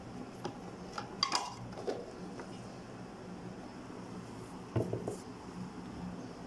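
Pizza dough ingredients with salt being mixed in a bowl, heard as scattered clinks and scrapes of a utensil against the bowl over a low steady background hum.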